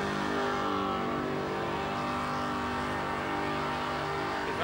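A burnout car at the Summernats street-machine event roars at sustained high revs, a loud, dense, continuous engine drone that climbs slightly at the end, with no talking.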